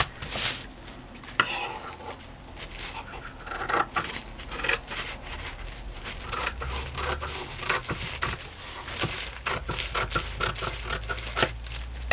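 Scissors cut through paper to make envelopes and pockets, a steady run of crisp snips and rustles heard close, with no talking.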